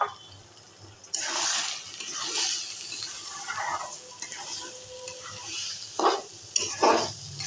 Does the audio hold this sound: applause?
no